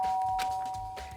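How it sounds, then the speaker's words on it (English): A doorbell in the Danganronpa video game chimes in two quick electronic tones, clear and close, over a low steady hum. "I pressed on the doorbell."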